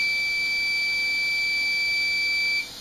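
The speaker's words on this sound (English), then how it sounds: "So it'll beep for 5 seconds," An Allen Bradley SLC5/02 PLC setup gives a continuous high electronic beep that holds steady for a few seconds and then cuts off.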